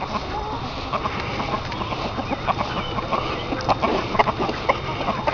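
Roosters and hens on an open-range farm, with fowl clucking and calling through a busy outdoor backdrop; a crow rises among the flock's repeated short calls, moderately near.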